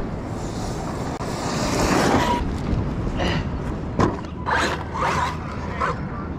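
An Arrma Outcast 8S RC car runs flat out on a beach, a loud, surging whine and rush of wind and churned sand that rises and falls in bursts, with sharper scrapes and impacts near the end.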